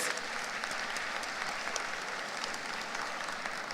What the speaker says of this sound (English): So I'd like to invite you to give a round of applause to our exceptional panelists of speakers.